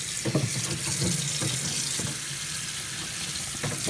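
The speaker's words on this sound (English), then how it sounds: "So rinse these guys off really nice. Get rid of all that little salt." Salt-cured salmon fillets rinsed under a running kitchen tap, a steady close wash of water with a few splashes and bumps as the fish is handled.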